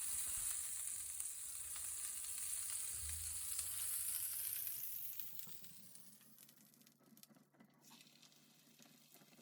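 Chicken fajita sandwiches sizzle steadily in a hot pan, a close hiss with faint pattering that gradually softens and thins toward the end.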